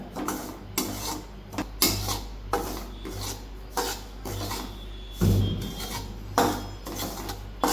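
Semolina being stirred and roasted in a pan for sheera, a steady run of rasping, scraping strokes of a spoon against the pan bottom, repeating about once a second, close and moderately quiet with no talking.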